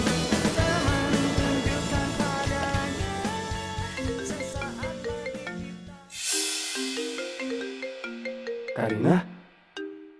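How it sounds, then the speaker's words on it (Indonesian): A mobile phone plays a melodic ringtone for about ten seconds, loud and close, the tune pausing briefly and starting again, with faint voices underneath. "Ada suara nada deringnya Ciko di sini"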